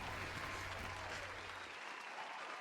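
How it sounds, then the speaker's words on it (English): A round of applause breaks out in a sneaker podcast studio, dense steady clapping that holds loud for a couple of seconds before easing slightly toward the end. "Hey, round of applause."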